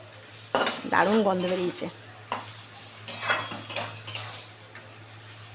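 A spatula stirs food in a pan in a series of close scraping and clinking bursts over a low hum, while a person makes a short remark partway through.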